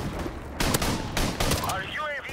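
Shotgun fired in Call of Duty: Modern Warfare Remastered, a few loud blasts in quick succession amid game noise, with a player talking over them.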